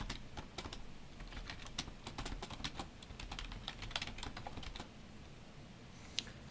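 Typing code on a computer keyboard: a quiet, steady run of rapid key clicks close by, continuous for several seconds before thinning out, ending with one sharper tap.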